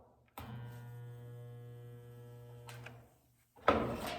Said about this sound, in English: I'm gonna go ahead and weld a stud on, and that's with this button here